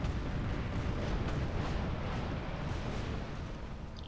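Ship cannons firing rusty cannonballs in the pirate video game Tempest produce a dense, continuous roar of blasts and rumble that stays loud and heavy throughout, without distinct separated shots.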